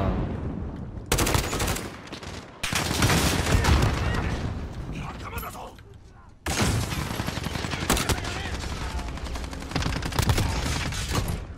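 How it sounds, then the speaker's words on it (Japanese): Airstrike explosions and heavy gunfire in Call of Duty: Modern Warfare come as loud, dense bursts of booming blasts and rapid fire with brief gaps between them, close and harsh. "お、やった、エアストライクいった。"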